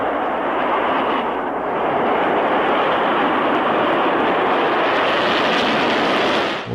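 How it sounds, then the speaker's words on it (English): A test missile lifting off from Vandenberg, heard as a loud, continuous broadband roar that holds steady for several seconds and drops away abruptly at the end, with no voices over it. "All cameras rolled as they heard liftoff from Vandenberg over their radio."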